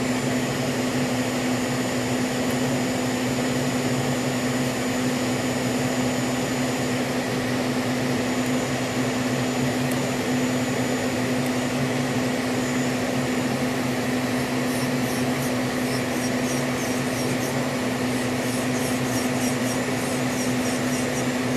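An electric E5 nail drill files fingernails with a steady, even motor whine and grinding hum that holds for about twenty seconds at moderate, close volume, with no talking over it.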